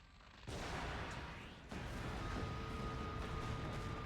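A cannon blast in the Okami HD video game, bringing down a bridge: a sudden loud boom near 0.5 s, then a second blast at about 1.7 s, each followed by sustained roaring rumble and debris crash to the end.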